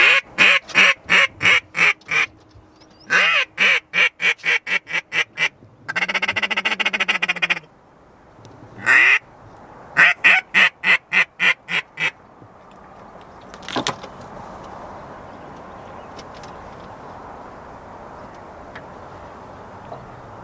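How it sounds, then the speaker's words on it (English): Ducks quacking outdoors near a 2020 War Eagle Gladiator boat, rapid bursts of repeated loud quacks in quick rhythmic series, one sustained honking call, then fading into quieter background noise. "You hear those ducks?"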